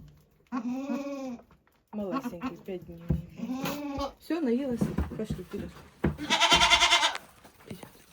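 Goats at milking time on a village farm, a five-day-old kid among them, give a few bleats, including one loud, drawn-out call near the end, between stretches of close conversational speech.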